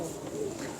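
A domestic pigeon kept for flying gives a low, soft coo, close and brief over a dense, noisy background.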